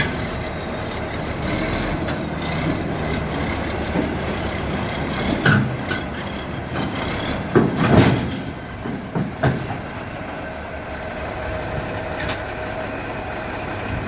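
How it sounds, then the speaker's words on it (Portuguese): A Fiatallis 14C crawler tractor is driven onto a trailer, its diesel engine idling steadily up close, with louder throttle bursts and clanks midway through. "E agora vamos colocar o trator de esteira."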